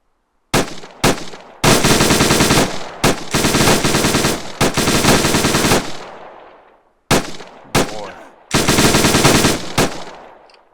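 Rifle and machine gun fire in a tactical shooter video game: loud sustained automatic bursts, several long volleys broken by short pauses, close and dense with echoing tails, no talking.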